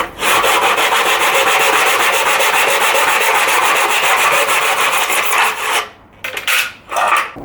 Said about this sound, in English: using the miter box, we're just going to make our first cut as close as possible to the corner